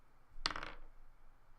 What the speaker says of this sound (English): could you roll me one more set of 3 dice